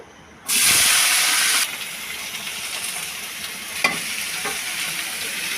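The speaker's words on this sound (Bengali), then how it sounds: "ভালো মতো ভেজে নিয়েছি পেঁয়াজ আর বেগুন একসাথে কেটে নিয়েছি" Onion and eggplant hit a hot pan with a sudden loud sizzle that settles into a steady frying hiss, with a few faint stirring clinks later on.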